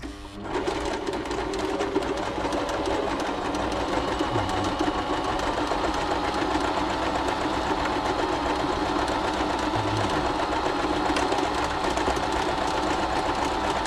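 Bernette b35 domestic sewing machine stitching a buttonhole without its buttonhole foot, a rapid continuous mechanical whirr and needle clatter running steadily throughout and close up.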